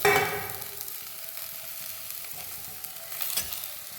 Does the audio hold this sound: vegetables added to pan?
yes